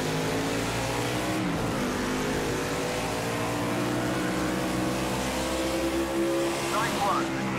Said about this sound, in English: A lot of work to drive a stock car on the road course.